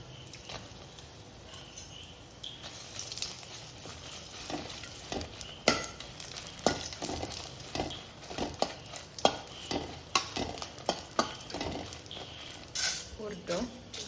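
Patrode pieces fry in a pan with a soft steady sizzle, punctuated by repeated clinks and scrapes of stirring or turning, fairly close, with a person talking quietly throughout.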